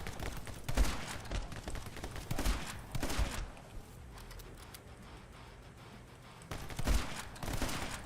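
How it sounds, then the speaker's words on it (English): Shotgun blasts in the action game My Friend Pedro, several loud, close reports in irregular bursts with a pause in the middle and more shots near the end. "This is going to be a lot of shotgun usage in this."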